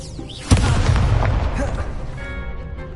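An Incendio fire spell bursts in Hogwarts Legacy with a sudden loud boom, followed by a roaring, crackling fiery wash that slowly fades, alone without talk.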